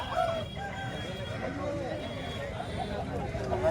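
Roosters and hens at the Bhadradri Kothagudem hen market, with a few crows and clucks rising over constant crowd chatter, while nearby voices talk throughout.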